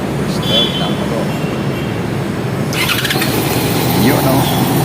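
A Yamaha XJ 600 motorcycle starts up after its ignition is switched off and on, with a dense broadband engine roar that steps up in intensity partway through and a brief squeal, under background noise.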